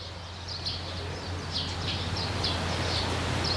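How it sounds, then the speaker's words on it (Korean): Small birds chirp in brief high bursts outdoors near a Jeju oreum, faint and repeated over a steady low hum of the surroundings, with no talking. "새소리가 지금 짹짹짹짹"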